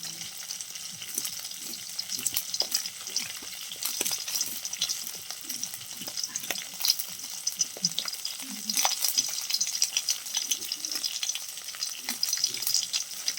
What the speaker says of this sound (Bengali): এখন ভাজা হচ্ছে ওরা থেকে হালকা হালকা তেল বাড়িয়ে যাচ্ছে মাছ থেকে